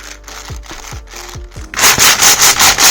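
Plastic pieces of an old Shengxiao 8x8 puzzle cube click and scrape in a quick series of turns, then a louder, rhythmic grinding rasp as the layers are twisted repeatedly.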